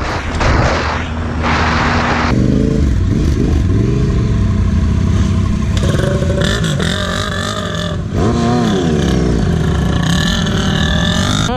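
Loud motorcycle exhaust on a big trail bike roars and revs repeatedly, rising and falling in pitch with sharp bursts, close and aggressive.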